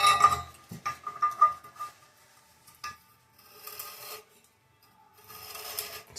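Rasping strokes of 80 grit sandpaper glued to a tool, honing the drain seat of a sink during installation, with close scraping bursts in the first three seconds, then quieter intermittent rubbing.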